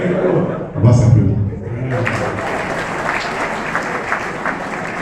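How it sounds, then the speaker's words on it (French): A crowd applauds at a welcoming-committee presentation for Laurent Gbagbo; a dense, sustained burst of clapping swells in after a moment of voices and laughter. "On va s'applaudir."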